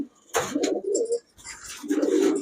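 Green Sapchila pigeon cooing in two close, full phrases separated by a short pause, each a low throaty rolling coo.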